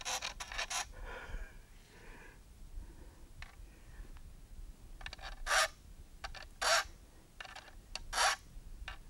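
Hand file rasping across metal, worked first on one side and then the other with light pressure, giving a series of short, bright scraping strokes in irregular bursts against a quiet background.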